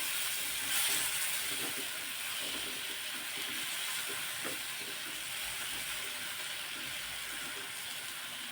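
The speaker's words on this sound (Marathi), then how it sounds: "गॅस कमी केलेला आहे आणि मिरची मिक्स करून घ्यायची आहे" Green chillies with yogurt frying on low heat in a pan while being stirred, giving a steady, soft, even sizzle and hiss with faint scraping throughout, no talk.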